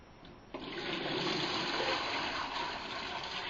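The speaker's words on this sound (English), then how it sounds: "I'm about to fill the second grow bed up to the same level" Water gushes into an indoor DIY aquaponics grow bed as a steady, close, broadband rush that surges in after a quieter start and keeps flowing evenly with no talk.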